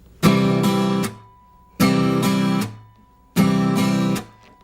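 An acoustic guitar rings out three times in a slow, even pattern: each time one chord is strummed down, then up, then cut short with a percussive muted hit, close and clear with a short silence before the next.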